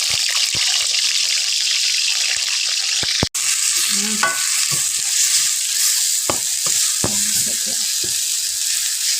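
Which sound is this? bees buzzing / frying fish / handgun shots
frying fish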